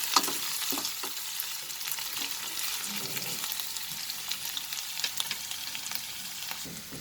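Onions sautéing in a pan for a sarson saag chicken dish, a soft continuous sizzle with occasional stirring clicks, fairly quiet and without speech.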